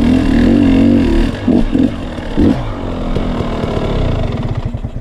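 A KTM 250 XC two-stroke dirt bike engine on Vermont singletrack revs and blips in short bursts, a loud, close, buzzy note that rises and drops before settling into a lower drone.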